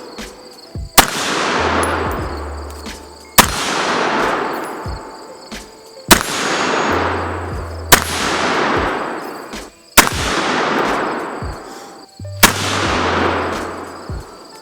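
Loud gunshots from a firearm at shooting practice, six sharp cracks spaced roughly two seconds apart, each ringing out with a long decaying echo; no talking.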